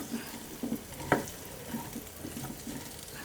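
Drumsticks, or moringa pods, fry in masala, giving a faint soft sizzle with light stirring taps and one brief clink of a utensil against the pan.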